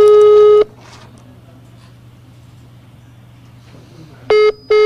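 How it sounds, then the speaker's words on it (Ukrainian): A telephone call goes unanswered: a loud tone sounds, then a long near-silent gap with faint line hum, then the tone returns in short repeated pulses, with no voice answering. "Чи справді це так, телефонуємо директору Олександру Кайдашу"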